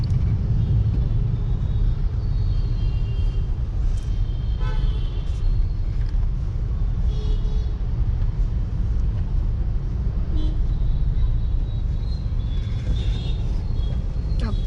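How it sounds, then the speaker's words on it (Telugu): Dense, congested city traffic near Erragadda gives a constant rumble of engines, with scattered horn toots and honks near and far, and occasional speech in the mix. "ఇంత ఘోరమైన ట్రాఫిక్ పెరిగిపోయింది ఏంటో."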